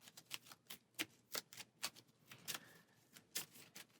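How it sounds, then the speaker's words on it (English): An encounter deck of Marvel Champions game cards is riffled close up, giving a quick series of crisp, evenly spaced snapping flicks, quiet and alone with no talk. "And we'll go ahead and give our encounter stack a final shuffle."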